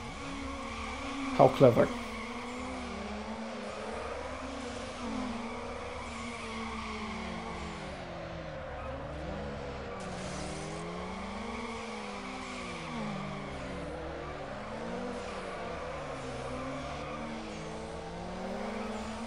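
Wheel spin and tire squeal from a car in Need for Speed Underground, a sustained engine drone with wavering squeal tones running throughout, with a brief louder burst near the start and a voice speaking briefly.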